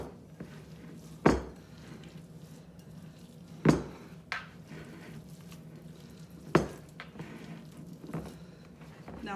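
Meatball mixture is worked by hand in a bowl, giving soft squishing and wet kneading sounds punctuated by three sharp knocks against the bowl at regular intervals, close and fairly quiet.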